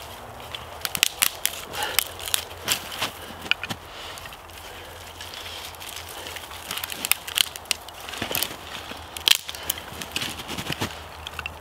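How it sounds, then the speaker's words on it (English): Loose bark and small sticks are pushed into the middle of a campfire being built log-cabin style, giving scattered close crunches and woody snaps in irregular bursts over a quiet outdoor background, with no talking. "push that into the middle, and put more small sticks on top of it"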